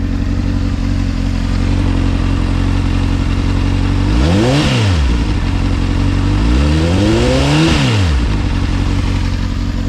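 A Honda Hornet CB600F PC41 motorcycle idles loudly and close in a park, with its engine not yet fully warmed, then is revved twice in quick sweeps that climb and fall back to idle.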